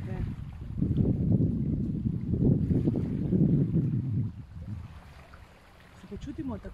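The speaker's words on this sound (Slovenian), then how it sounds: "Tako kot zvok tega našega notranjega dihanja." Ujjayi yoga breathing during a short flow: slow, close, ocean-like rushing breaths, one long steady exhalation lasting a few seconds and then easing into quieter breath, with no words.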